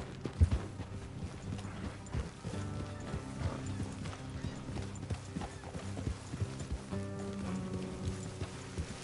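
Horses walking along a road, hooves clip-clopping in a steady, moderately quiet rhythm with occasional snorts and tack rattles, continuing for several seconds without speech.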